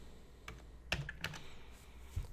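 Code typed on a computer keyboard while building a Laravel 5.7 resource controller, a short run of irregular key taps with a few louder strikes, close and alone.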